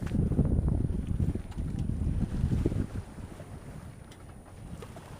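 A sailboat running under a small genoa in about 7-8 knots of wind off Saint-Jean-Cap-Ferrat, with a steady low rush of wind and water throughout, loud and close, easing slightly toward the end; no talking.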